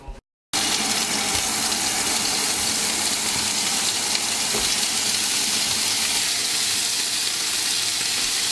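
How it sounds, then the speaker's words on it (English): Water poured from a tap into a pan of chicken and peas while a meal cooks, a steady close rushing gush after a brief quiet start, running continuously without talk. "We just added some water so it's not as dry."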